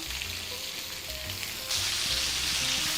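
Andouille sausage with peppers and onions frying over medium-high heat, a steady close sizzle that swells louder partway through as the pan is stirred, with no talk.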